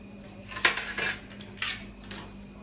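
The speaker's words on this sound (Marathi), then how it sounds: "हे जे चीज आहे कट केलेलं आहे मी ॲड करून देते छान मिक्स करते" A utensil scrapes and clinks in a pan as cut cheese is mixed into Maggi noodles, with a few sharp metallic knocks and scraping strokes close by, no talking.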